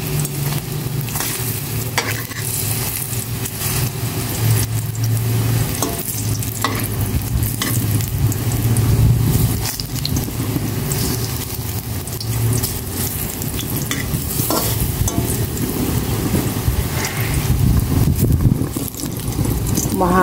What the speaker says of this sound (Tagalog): Magprito naman ako ng saging na saba.